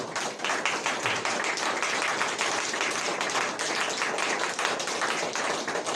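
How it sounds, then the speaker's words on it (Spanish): A congregation at a Sunday church service claps together in sustained applause, many hands producing a dense, even patter that stays at a steady moderate level for the whole stretch, with no talking over it. "¿Cuántos le pueden dar un aplauso al Señor por su palabra?"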